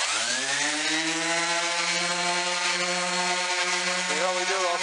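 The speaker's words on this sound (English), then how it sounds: "the next step is sanding with 220" A power sander drones steadily against wood, a continuous buzzing whine that shifts slightly in pitch near the end, sanding with 220 grit sandpaper on the top of a 1964 Lane Acclaim buffet.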